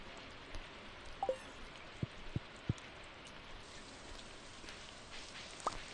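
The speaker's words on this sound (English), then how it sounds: "So much rain." Rain falls in a video game, a steady faint patter with a few sharp isolated drips and taps, quiet and even throughout.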